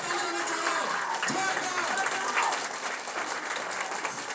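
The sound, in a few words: audience applause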